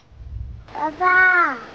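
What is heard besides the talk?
birds calling outdoors on a hike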